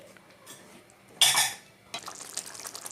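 A spoon scrapes and clinks against a pot of mushroom gravy in a brief loud burst, followed by softer stirring and clattering noises in a quiet kitchen.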